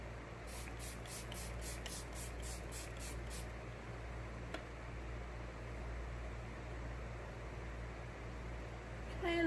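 Face mist setting spray is sprayed in about ten quick hissing pumps close by, followed by a long quiet stretch with a faint room hum.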